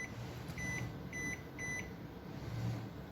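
Three short, evenly spaced electronic beeps from a Panasonic NN-CD86JD microwave oven as its knob is turned to pick a combination mode. They sound quiet and clear over a soft background hum.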